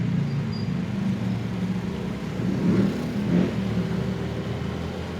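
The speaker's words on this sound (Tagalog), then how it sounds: "Maingay talaga yung ating ignition starter, no?" A noisy e-bike ignition starter whirs and rumbles steadily throughout, with a low motor drone that swells briefly twice, riding in Cavite.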